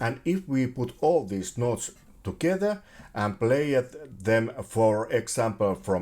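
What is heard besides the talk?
No everyday noises stand out.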